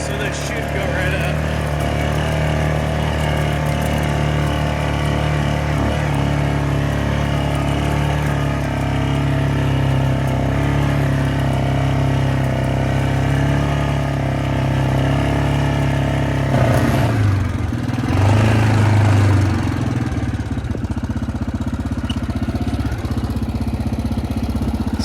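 A four-wheeler ATV that had been submerged 25 feet underwater climbs a hill in four-wheel drive, its engine droning steadily and loudly, with a brief surge in revs near the end.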